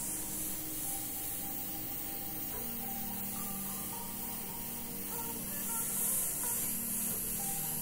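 An airbrush hisses steadily, spraying paint onto a Ford Mustang hood being custom painted with a Spider-Man mural, a soft continuous spray with faint hum and no talking throughout.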